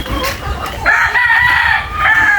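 A rooster crows loudly and close by, a long drawn-out call, with hens clucking around it.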